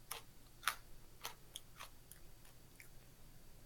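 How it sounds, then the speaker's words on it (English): Chewing on burnt pizza close to a microphone, a quiet series of crisp crunchy bites and mouth clicks spaced irregularly over a faint background hum, with no talking. "Who's chewing stuff?"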